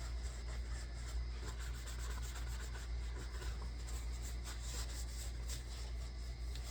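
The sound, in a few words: rubbing a knife with a clean rag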